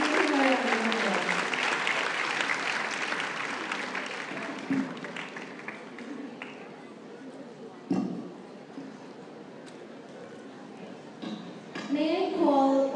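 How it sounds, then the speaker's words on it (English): Applause from an audience at an investment seminar on risk and return, strong at first and then fading to scattered claps, with brief talk and a renewed burst of clapping at the end. "Can you please give him a round of applause?"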